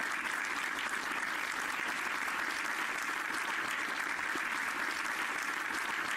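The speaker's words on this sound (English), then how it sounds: "Yeah, we need claps." Steady, dense applause from a crowd, clapping continuously without pause or voices on top.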